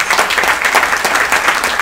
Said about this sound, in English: you all deserve a huge round of applause for your involvement in that process